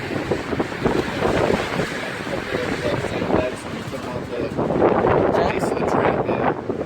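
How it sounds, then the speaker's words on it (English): Strong wind roars continuously through a wind storm, buffeting the microphone with broad rushing noise that surges louder toward the end. "it's so windy that we're gonna put sandbags on the tramp"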